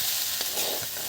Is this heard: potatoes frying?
yes